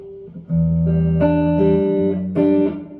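An electric guitar on its neck pickup plays a few notes and then strums chords with a warm, rounded, darker tone that rings out clearly with no voices.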